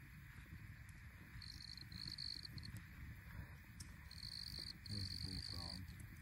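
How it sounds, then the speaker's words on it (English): Crickets chirp in steady bursts near a campground pond at night, with low rumbling background noise; a bullfrog's croak is not clearly distinct among the insect calls. "There's a bullfrog."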